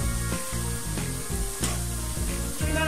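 Boondi, the small fried gram-flour drops for a sweet, sizzle steadily in hot oil in a pan while being stirred, with soft scraping strokes recurring at a regular rhythm over the constant close hiss.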